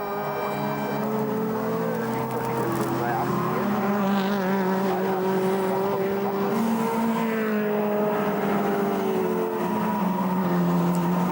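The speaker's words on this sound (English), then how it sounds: "So the BMW number 1, being driven by Jörg Müller, continues to try and catch up" Race cars in the 2004 Nürburgring 24 Hours, including a BMW, a Viper and a Manthey Porsche, roar past continuously with engine notes rising and falling, loud throughout and under a commentator's voice.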